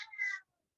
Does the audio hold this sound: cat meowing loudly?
yes